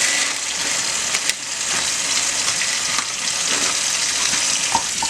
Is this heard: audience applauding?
no